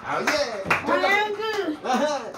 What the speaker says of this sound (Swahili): Wanangu piga makofi